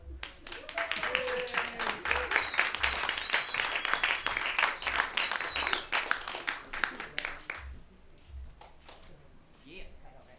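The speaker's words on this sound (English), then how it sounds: "Please give a big round of applause to Ray." Audience at a comedy show applauds steadily for about eight seconds, dense clapping with voices and whoops mixed in, before it thins out and fades near the end.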